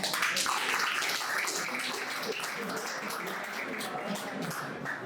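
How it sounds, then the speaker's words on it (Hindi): An audience applauds at a Republic Day celebration at a defence academy, a dense, steady wash of many hands clapping for about five seconds, with a voice or two mixed in. "तालियां बजाओ"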